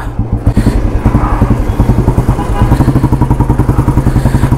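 A motorcycle riding after a chain service, its engine running steadily with a rapid, even, throbbing pulse, loud and close for a few seconds, with some clatter and no talk.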